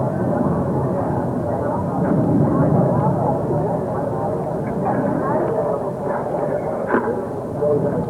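Military jet aircraft at an air force anniversary air show in 1996 roar past at high speed, a broad continuous engine rumble filling the clip while an announcer's voice runs over it.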